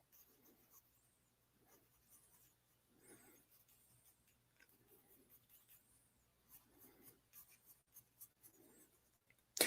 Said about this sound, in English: So just getting out the rough, using pencil.